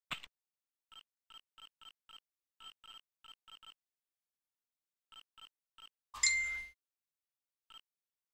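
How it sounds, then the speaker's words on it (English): Phone notification pings sound as a series of short, clean, bright tones at irregular intervals, some in quick clusters, fairly faint against silence, with one louder burst of noise partway through. "you heard the ping from my phone"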